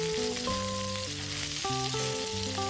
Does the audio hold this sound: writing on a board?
no